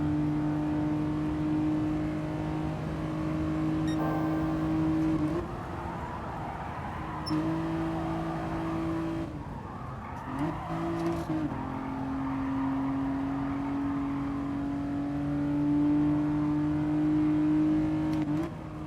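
A race car engine in Gran Turismo Sport drones steadily at high revs throughout, with a few brief dips and rises as the throttle lifts and reopens, loud and without speech.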